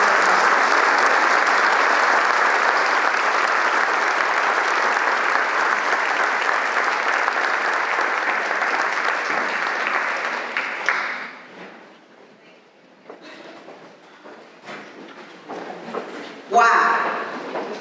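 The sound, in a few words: audience applause for Catalina Stubbe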